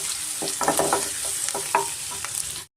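Garlic frying in a pan until golden, with a steady close sizzle under repeated scraping stirs of a spatula, alone without voices, ending in a sudden cutoff.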